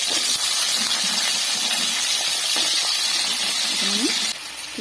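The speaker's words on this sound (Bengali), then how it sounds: "আলুটিকে ডুমো ডুমো করে কেটে নিয়েছি আর ওই তেলে আমি ভেজে নেবো আলুগুলো" Diced potatoes frying in hot oil give a steady, loud hiss and sizzle that runs through the whole stretch, easing slightly near the end, with no one speaking over it.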